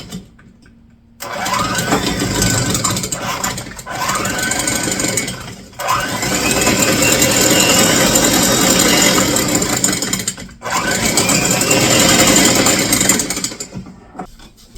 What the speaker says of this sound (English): This is always fun with the electric mixer.